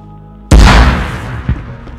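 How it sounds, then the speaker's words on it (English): A grenade placed on the ground explodes in the survival game DayZ during a castle raid, one sudden loud boom after a near-silent lead-in, decaying into rumble with a smaller thump a second later. "Make a nice one smooth explosion."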